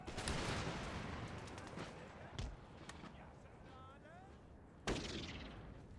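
Gunfire in an Empire: Total War battle, with dense crackling musket volleys at the start and two sharp louder shots later, heard over a busy battlefield din.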